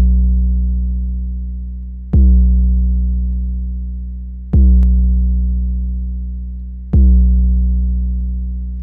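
Three deep 808 bass notes from a Sublab synth hit at a slow, even pace on the same root note, each booming and decaying gradually before the next one lands.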